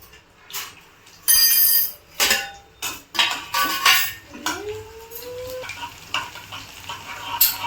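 Cumin and crushed garlic fry in a pan with a sizzle, broken up by loud clattering scrapes of a spoon against metal and a ringing clink, with no talking.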